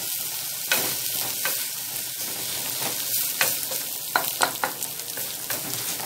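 Vermicelli and washed rice are stirred in a hot pan for koshari. Soft, continuous sizzling runs throughout, with scattered scraping clicks from the spoon. Nobody speaks.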